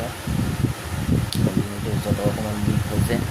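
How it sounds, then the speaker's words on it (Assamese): An electric fan running in a room at home, giving a steady whooshing hum beneath a person talking throughout. "এয়া ফেন লগাই থৈছোঁ"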